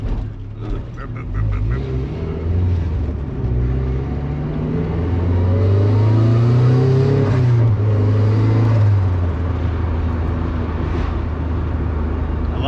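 A turbocharged 1997 Mazda Miata driving around town: a steady engine drone rises in pitch as it revs, heard from inside the car, with the blow-off valve venting as the revs drop.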